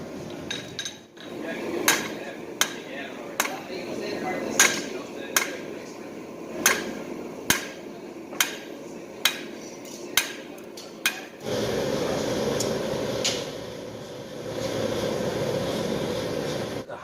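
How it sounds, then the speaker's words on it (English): An up-acting hydraulic press in a metal craft shop, used for pressing Damascus, gives a series of sharp metallic clanks at regular intervals, then a steady loud hum of machinery takes over. "Hydraulic press is an amazing piece of machinery."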